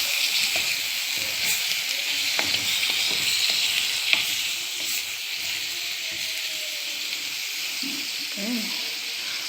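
Chicken tagine ingredients fry in a pan with a constant loud sizzling hiss, with faint stirring scrapes and a few light clinks underneath.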